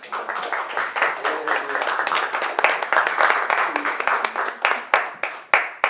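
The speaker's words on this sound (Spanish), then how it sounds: "Un aplauso para estos niños." Congregation in a church clapping for a group of children, a dense crackle of hands with sharper individual claps standing out near the end, voices faintly mixed in underneath.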